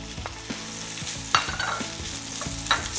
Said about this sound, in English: Saute on high heat for about good 2 minutes or until you get a little bit of that golden mark.